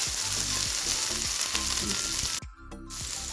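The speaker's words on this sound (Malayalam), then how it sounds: "ഇനി ഇത് നമുക്ക് ചെറിയ തീയിലിട്ട് നന്നായിട്ട് തന്നെ വഴറ്റിയെടുക്കാം." Onions and tomatoes sauté in a pan over a low flame for chutney, with a steady close sizzle and stirring scrapes that stop briefly near the end before the frying hiss resumes.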